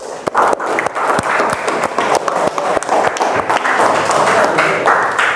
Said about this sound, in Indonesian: tepuk tangan dulu untuk Arya